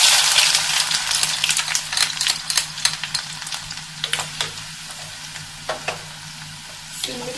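Finely chopped garlic and ginger sizzle and fry in a pan for a spicy squid curry, a loud hiss easing as stirring clinks and scrapes tap out an irregular rhythm.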